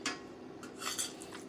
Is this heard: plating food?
yes